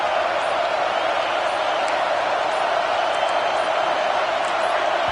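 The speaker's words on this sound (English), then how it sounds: "And with this place rocking, the crowd forces a false start." Steady, dense roar of a stadium crowd in an NCAA college football video game, a continuous wash of massed voices holding at the same loud level throughout with no distinct individual talk.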